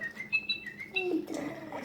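A Little Live Pets toy bird with its cage chirps in a few short, bright electronic tweets and whistles, close by and fairly soft, in brief spaced bursts.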